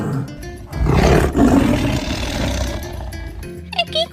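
A loud, sustained tiger roar rises and rolls on for about two seconds as a sound effect in a told folk tale, then fades into quieter rumbling and a few short sounds at the end.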